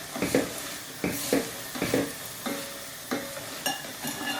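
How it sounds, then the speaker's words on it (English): Sauce for leftover pork being stirred in a pan, with soft sizzling and a series of spaced scraping strokes of a utensil against the pan, quiet and close, without talk. "Put a tiny bit in and give it a stir."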